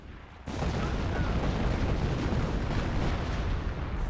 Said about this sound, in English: Oh, another rocket barrage that is gonna be deadly.